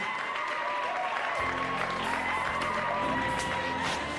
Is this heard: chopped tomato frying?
no